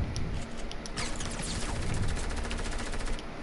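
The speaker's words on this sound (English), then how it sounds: "I just lasered him with his SMG." Rapid SMG gunfire in a video game, a dense, continuous burst of automatic shots lasting the whole stretch, loud and close with no voices over it.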